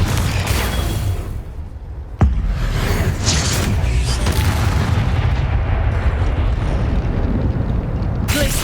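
A Confringo spell blast in Hogwarts Legacy, loud booming impacts with a sharp crack partway through, followed by sustained rumbling combat noise and debris.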